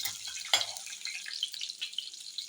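Cumin, garlic cloves and dried red chillies frying in hot oil for a turkey berry chutney, a faint, steady crackling sizzle close by with one brief louder stir near the start.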